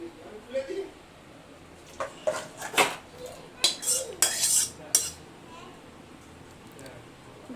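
Metal spoon scraping and clinking against a pot and bowl as cooked meat curry is poured and served in a home kitchen, a scattered series of sharp clatters, with faint talk in the background.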